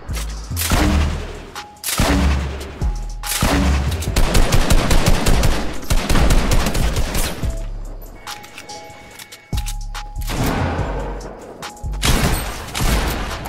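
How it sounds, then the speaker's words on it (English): Rapid gunfire in a shooter video game, loud bursts of automatic and single shots repeating throughout with brief pauses and heavy booming impacts. "Right as I say that, somebody wants to start shooting"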